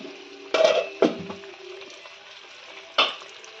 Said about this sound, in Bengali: আমরা এর মধ্যে মশলা ধোয়া জলটা দিয়ে দিচ্ছি।